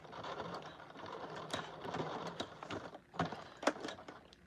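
A sewing machine stitches through a fabric leash at close range, its mechanical whir broken by short bursts and sharp clicks that rise and fall unevenly; no one talks over it.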